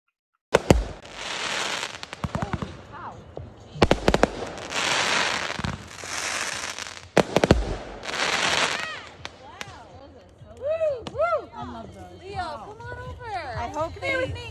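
Fireworks going off at a night display: several loud sharp booms and crackling bursts, then a string of whistling, screaming rockets rising near the end, with people talking faintly underneath.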